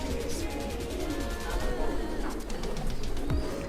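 A pigeon coos in low, soft repeated calls against a steady busy background, fairly close, with faint voices and clatter around it.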